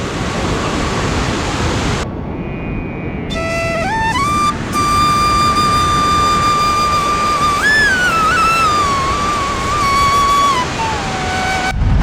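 A waterfall beside a rock tunnel in Kerala's Vagamon area gives a loud, steady, close rushing roar throughout, with thin whistling tones sliding over it.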